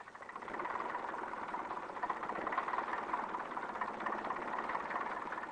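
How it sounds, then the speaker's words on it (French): Classic car engine idling, a steady low rumbling vibration that swells in slightly at the start and then holds an even, continuous drone with no voices. "la traduction exacte des vibrations d'un moteur classique"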